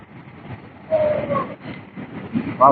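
A metro train runs on a newly opened line in Bangalore, giving a moderate rumbling roll with a squealing tonal whine that rises and fades, plus a brief squeal at the end, with no talk over it.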